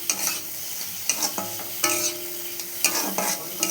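A spoon stirs egg pasta sauce with chopped tomatoes in a frying pan, giving repeated scraping clatters against the pan over a steady close sizzle, with no talking.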